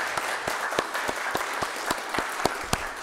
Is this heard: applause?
yes